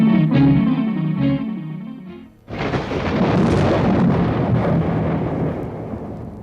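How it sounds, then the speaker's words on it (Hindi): A radio-play storm effect: strong roaring wind and thunder-like rumble burst in after a brief lull, loud and sustained, with a low murmuring bed beforehand. "एक दिन अचानक जोरों की हवा के साथ तूफान उठा"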